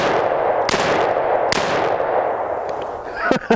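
Two sharp, loud gunshots ring out close by from a Polymer80 AR-15 rifle, each with a ringing, echoing tail, and a fainter clank follows near the end.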